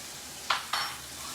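About a tablespoon of garlic hits a hot pan of butter, giving two quick, bright sizzling bursts close by, each flaring up and then quieting to a soft hiss, with no talking.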